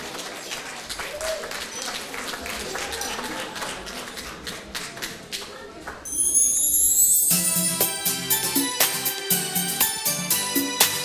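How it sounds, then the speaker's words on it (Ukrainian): An audience applauding to welcome a singer at a Christmas song performance, a dense run of clapping under a host's voice that swells as music begins. "Зустрічайте її гучними оплесками."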